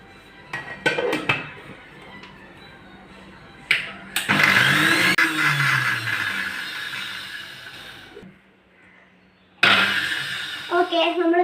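A kitchen blender whips homemade mayonnaise in loud motor bursts, first short pulses, then a long whirring run that cuts out and starts again near the end, with speech and clinks of utensils around it.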